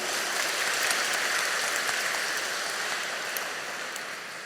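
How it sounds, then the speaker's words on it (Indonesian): A church congregation at Mass applauds steadily, a dense wash of clapping hands that holds for several seconds and slowly tapers off near the end. "Boleh kita tepuk tangan untuk beliau?"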